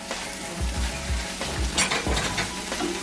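Pork frying in a hot pan is stirred with a spoon, giving a steady loud sizzle broken by several scraping strokes and knocks against the pan.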